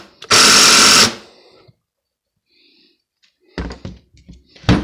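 A cheap Chinese impact gun tested on work held in a vise gives a loud, rapid hammering burst of about a second, then goes quiet, followed by a few shorter clattering bursts.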